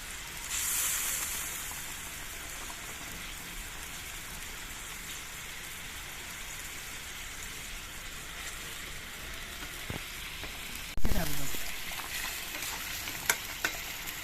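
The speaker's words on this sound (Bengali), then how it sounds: "ঝোলটা ফুটে উঠেছে, এখন আমি এর মধ্যে মাছগুলো ছেড়ে দিচ্ছি।" Pabda fish slide into boiling curry gravy in a pan, a steady close bubbling sizzle like rain on a surface, with a sharper splash-hiss as the pieces go in, no voices.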